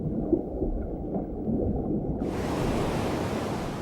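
Ocean waves surge and wash steadily around a rocky shore where marine iguanas swim, a dense low rumble that turns into bright broadband hiss partway through, with no voices.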